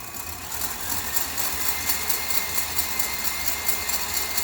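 Electric stand mixer whipping macaron batter at high speed, a steady loud motor whir with a rattling hum that stays constant throughout, no talking.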